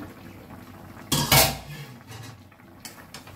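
A metal lid is lifted off a pot of simmering chicken, producing one sharp clattering clank followed by a short scrape, near and loud against a quiet kitchen background.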